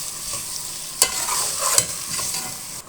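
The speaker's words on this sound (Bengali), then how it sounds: "এখন ভালো করে মশলার সাথে একটু কষিয়ে ভাজা ভাজা করে নিব।" Broiler chicken frying with spices in a pan, stirred with scraping strokes over a steady close sizzle; two sharper utensil scrapes stand out.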